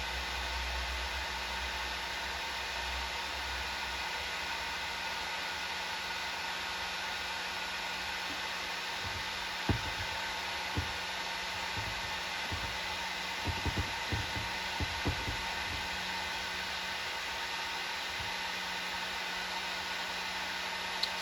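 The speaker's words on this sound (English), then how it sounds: "So I just got my heat gun going here and just heat it up a little bit" A heat gun blows a steady, even hiss and whir for a long stretch, warming a chainsaw impulse line on a vintage Homelite 360 in a cold shop, with a few soft taps and knocks partway through.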